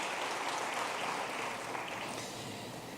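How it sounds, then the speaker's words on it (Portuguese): Congregation at a church service applauding, a dense, even wash of many hands clapping at moderate distance that holds steady and slowly eases off. "Você pode aplaudir o Senhor Jesus"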